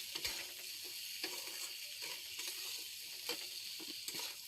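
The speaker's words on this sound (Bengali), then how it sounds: "ভেজে রাখা পটল আর চিনি দিয়ে আরও একটু সময় ভেজে নিলাম" Fried pointed gourd pieces and sugar frying together in a pan, with a continuous faint sizzle and intermittent scraping knocks of a spatula stirring, heard alone at close range.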